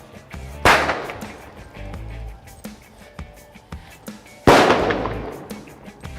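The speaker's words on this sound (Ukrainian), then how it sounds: "Отак працює граната." A training hand grenade's pyrotechnic fuse pops sharply, then after a delay of about four seconds the grenade goes off with a loud, close crack that decays slowly. Lighter clicks and handling noises come in between.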